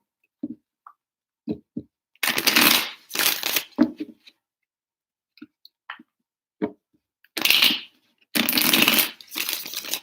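Cards are riffled and shuffled in several bursts, with quiet clicks and taps between the louder shuffles.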